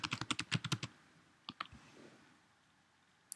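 Rapid keystrokes on a Mac keyboard as a password is typed, about a dozen crisp clicks in quick succession, then a pause and a couple of final taps, close and clear in a quiet room.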